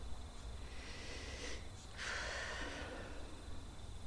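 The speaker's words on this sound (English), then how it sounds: "take a deep breath" One slow, deep breath drawn in and let out softly and close by, in a quiet setting.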